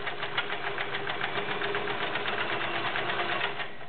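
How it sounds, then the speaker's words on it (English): Vintage Kenmore convertible free-arm 1336 sewing machine running a straight stitch, a steady fast rhythmic needle clatter over a low motor hum, close and continuous, no talk. "We'll start with a straight stitch."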